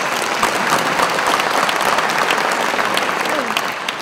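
An audience at a Danish political party congress applauds steadily, a dense, even clapping that fills the room from start to finish with a faint murmur of voices beneath.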